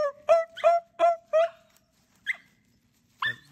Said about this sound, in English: Let him bark. Just let him bark.